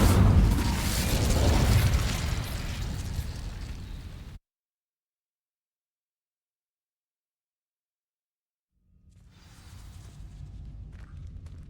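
Incendio fire spell in Hogwarts Legacy setting dry vines ablaze: a loud roaring, crackling burst of flame that fills the first four seconds, then sudden silence, then a fainter rumbling background returns.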